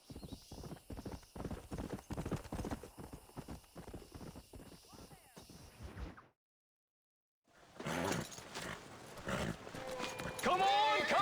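Horse hooves clip-clop in a steady rapid rhythm in the Red Dead Redemption video game, then a short silence, followed by louder mixed game sounds with speech.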